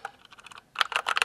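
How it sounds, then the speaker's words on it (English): Typing on a Poker II mechanical keyboard with Cherry Red linear switches: a few soft, sparse keystrokes, then a quick, louder burst of bottoming-out clacks in an irregular rhythm, close and alone. "It's the Poker II. It uses the cherry red keys,"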